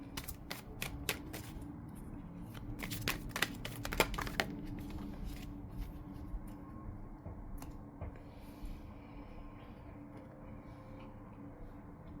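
Tarot cards being shuffled for a Scorpio reading, a run of quick papery riffles and snaps in the first few seconds, easing into softer, sparser card handling and faint rustles.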